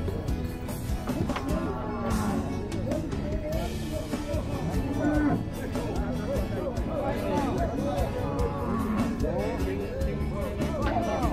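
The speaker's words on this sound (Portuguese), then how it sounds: "O boi Nelore desceu aí com uma bezerrada mestiça." Nelore cattle and crossbred calves being unloaded from a truck low and moo repeatedly amid a busy, continuous din of hooves, clatter and background voices at close range.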